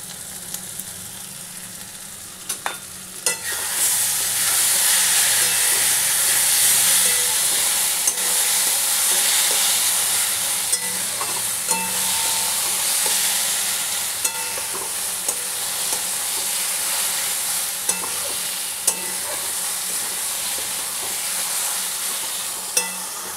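Ghee and grated coconut fry in a pan for a vegetarian bottle gourd ghonto, giving a steady, close sizzle with stirring scrapes throughout and no talking.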